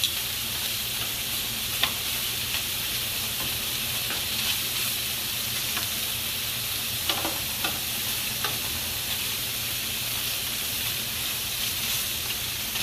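Sausage with peppers and onions fries in a pan, a continuous dense sizzle and crackle with occasional soft stirring clicks, close and steady with no talking.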